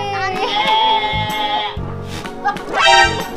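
A goat bleats loudly and close by, several wavering calls in a row with short pauses between them.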